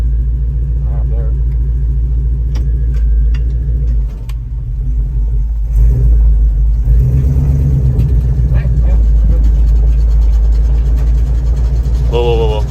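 A Chevrolet K5 with an LS engine swap rumbles loudly from inside the cab as it drives, a steady low engine drone under people talking.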